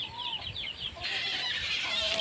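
Chickens cluck and squawk inside a farm chicken house, several birds calling in short overlapping bursts, with a brief flurry of wing noise toward the end, fairly close and moderately loud.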